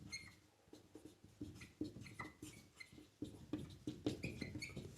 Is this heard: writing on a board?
yes